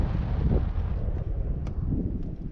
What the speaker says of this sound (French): il fait bon, là, il y a du vent.